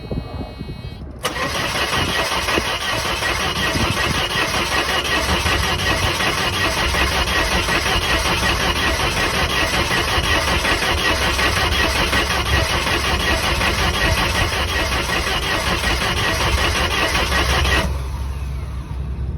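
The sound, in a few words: Mercedes car engine cranking, trying to start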